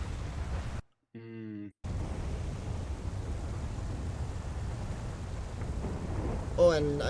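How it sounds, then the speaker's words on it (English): Steady broadband rain in a video game with low rumbling thunder, briefly interrupted by a short tonal chime, then a rising synthetic blip near the end. "Barely hear you over the rain."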